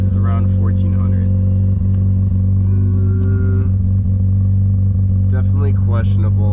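Mazda RX-7 (FC) rotary engine idling steadily at about 1400 rpm, a constant close low drone with a slight uneven pulse, while a person talks over it.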